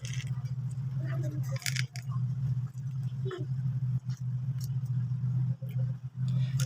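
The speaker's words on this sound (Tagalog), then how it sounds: "Pasensya na kayo sa mga dumadaang sasakyan" Cars pass by on a roadside street in front of a house, a steady low traffic rumble running throughout, with a few brief sharper noises close by.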